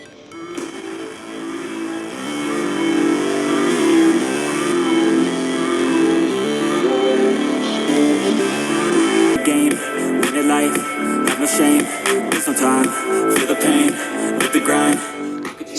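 A song plays through an Aurzen EAZZE D1 smart projector's built-in speaker, with continuous music that grows fuller and more rhythmic partway through, played fairly loud in a room.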